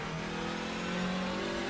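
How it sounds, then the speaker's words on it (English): Hyundai Elantra N TCR race car engine in a racing video game at Tsukuba, a faint steady whine holding one pitch as the car runs down a straight, with no talk over it. "the number 1 Hyundai Elantra NTCR as it makes its way down the back stretch in towards the 12th and final corner here at Tsukuba"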